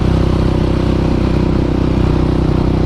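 KTM Duke 690 cafe racer motorcycle cruising steadily in fifth gear, its single-cylinder engine giving a loud, even, close drone with a low throbbing pulse and no change in pitch throughout.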